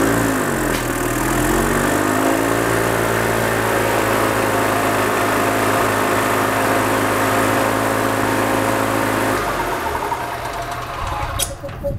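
A gas-powered 2005 EZGO TXT golf cart engine runs steadily at a loud, even idle, shifting pitch briefly near the start, then cuts off abruptly near the end and leaves a short rattling tail.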